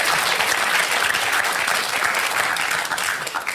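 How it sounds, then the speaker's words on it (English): Audience applause at a televised panel discussion with a live studio crowd, dense and sustained at steady loudness before tapering slightly at the end, with no speech over it. "Now, that's more like what I call applause."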